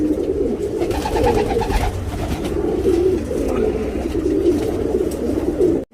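Tournament pigeons in Bangalore coo continuously and close, a dense overlapping chorus of low throaty warbles that fills the whole stretch without pause.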